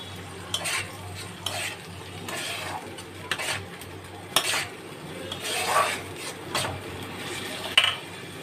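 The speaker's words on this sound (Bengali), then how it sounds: "এবার আস্তে আস্তে সুন্দর করে মশলাটাকে কষিয়ে নেব যাতে মশলার গন্ধটা না থাকে কাঁচা" Spice paste (masala) is stirred and fried in a pan for a Bengali home-cooking dish, with quiet, repeated scraping strokes of a spoon over a soft background sizzle.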